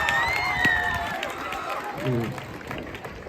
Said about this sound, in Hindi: आप जोर से तालियां बजाएं, माननीय मुख्य अतिथि जी का जो है स्वागत करें।